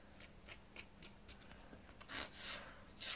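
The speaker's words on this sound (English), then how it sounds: "Still a bit of product lingering on that free edge there, so I'm just going to file that away." A nail file rasps product off the free edge of a gel-overlaid nail in short, repeated strokes, close and fairly quiet, with the scrapes growing denser and louder toward the end.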